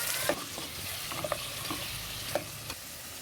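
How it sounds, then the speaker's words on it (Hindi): Chicken pieces fry and sizzle in a pan with browned onions, a soft continuous crackle broken by occasional stirring scrapes and clicks, no voices. "इसको चिकन को इसमें अच्छे से हम जो है ना फ्राई करेंगे। इसको अच्छे से इसमें भून लेंगे प्याज़ों के साथ।"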